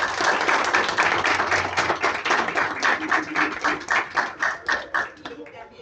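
Audience applause at a community nutrition and health conference, a steady burst of clapping from a room of people that gradually thins into separate, rhythmic claps before fading out.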